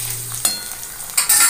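Onions with green chilli and ginger-garlic paste fry in a pan as a spoon stirs them, giving a loud, close sizzle with scraping bursts.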